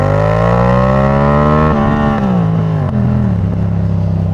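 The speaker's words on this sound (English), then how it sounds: "But it sounds good for being an Amazon exhaust" Motorcycle fitted with an aftermarket Amazon exhaust with the baffle removed, revving loudly and steadily up close with a deep, buzzing drone whose pitch rises and then dips slightly before settling.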